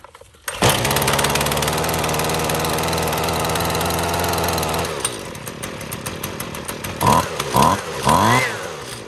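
A discarded Husqvarna 128CD string trimmer, missing its trimmer head, runs on half choke with a loud, close, buzzing two-stroke drone for several seconds, then cuts out and leaves scattered clunks and handling noises.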